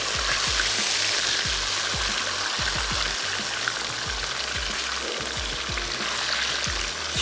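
Chicken strips cooking with spices in a hot pan give a dense, loud, continuous sizzle, with low thumps from stirring repeating throughout.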